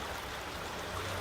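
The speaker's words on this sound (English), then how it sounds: "There's a creek running, or a stream running through it." A stream runs through a large cave, giving a soft, steady watery rush with faint trickling detail, quiet and continuous over the whole stretch, no speech.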